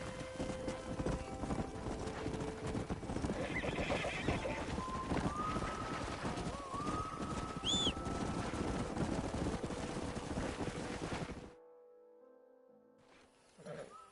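A stallion in the Red Dead Redemption video game whinnies clearly over steady clip-clopping hooves and busy background game sound, then everything cuts to near silence toward the end.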